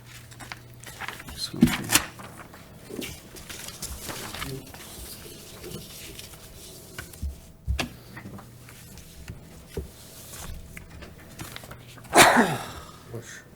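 A short, sharp sneeze bursts out near the end, loud against a quiet room with faint rustling and a few scattered clicks.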